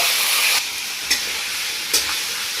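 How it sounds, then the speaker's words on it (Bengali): Chicken sizzles loudly and continuously in a hot pan, with a couple of sharp clacks from a spatula stirring it. "আমি মাংসটা হালকা বাদামি কালার করে প্রথম ভাজা ভাজা টাইপের করে নেব"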